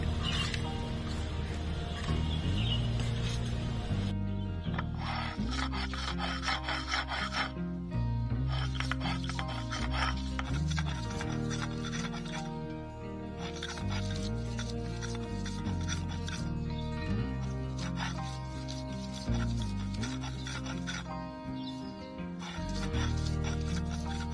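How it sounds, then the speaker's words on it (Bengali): Fried shrimp and bottle gourd leaves being ground into a paste, likely on a grinding stone, a continuous rhythmic rasping and rubbing in repeated back-and-forth strokes, close and steady throughout. "চিংড়ি মাছ ভাজা একসাথে বেটে নেব।"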